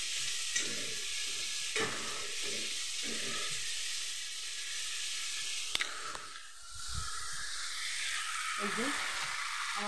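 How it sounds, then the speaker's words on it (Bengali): Cabbage cooked dry in oil with a hing tempering sizzles in a pan, a steady crackling hiss broken by stirring scrapes, close and moderately loud. "আমার বাঁধাকপি হয়ে গেছে, চচ্চর চচ্চর করছে"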